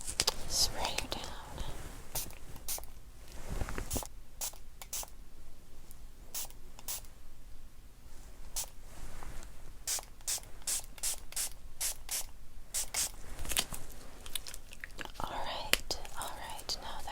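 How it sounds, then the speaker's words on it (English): A handheld spray bottle misting in a quiet ASMR setting, dozens of short, sharp hissing squirts in irregular bursts, close to the ear, with soft whispering between them. "So let me just spray you down."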